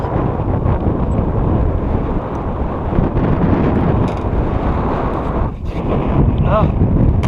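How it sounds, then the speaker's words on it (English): Strong cold wind buffets the microphone on a flounder and drum fishing trip, a constant loud roar across the whole stretch with brief gusty dips. "freezing my ass off out here in this wind"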